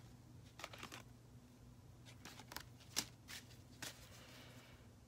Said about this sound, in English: Thank you for your patience while I pull these cards.